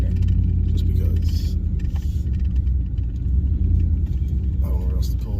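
A Ram four-door pickup truck rumbles loudly and steadily as it pulls forward nearby, its engine drone continuous throughout, with people talking over it.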